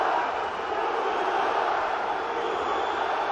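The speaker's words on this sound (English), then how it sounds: "crowd getting behind him early in this one to the surprise of no one" A large arena crowd at a mixed martial arts fight roars in support of fighter Tuhugov, a loud sustained wash of cheering and shouting that holds steady throughout with no distinct voices over it.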